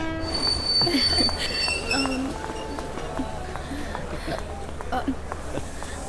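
A train arrives at a station, its wheels squealing in long high whines over a steady low rumble, with voices talking over the scene.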